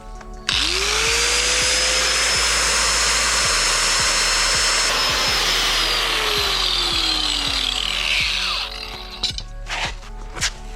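A power tool's cutting disc spins up and grinds freehand through metal for a boat trailer winch post, a loud, sustained high-pitched screech with rhythmic ticking underneath, winding down near the end and followed by a few faint clatters.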